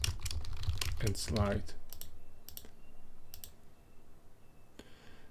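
Computer keyboard keys tapped in a few quick bursts at a desk, crisp clicks separated by short pauses, with someone talking over the first part.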